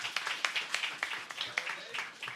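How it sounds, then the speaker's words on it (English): An audience claps and applauds in quick, light bursts, fairly quiet and brief. "We can give a round of applause to David, everybody."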